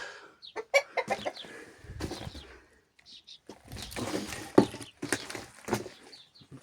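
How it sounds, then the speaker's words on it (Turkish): Chickens cluck in scattered bursts close by, with rustling and knocking noises between calls and a brief quiet stretch. "Aynı şuraya yine tavuklar."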